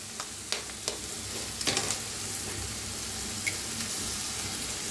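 Coriander roasting in a hot pan, then eggs cracked in and frying for egg fried rice: a steady close sizzle with a few sharp clicks and taps from a utensil, no voices.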